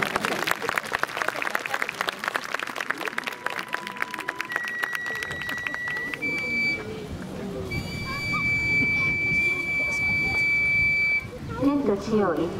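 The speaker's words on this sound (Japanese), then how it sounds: "どうぞ遠慮なく拍手を送ってください。" Spectators clap at a yabusame horseback archery Shinto ritual in Akashi Park in 2019, with scattered claps early, then a long sustained whistle-like tone and crowd murmur while people talk nearby.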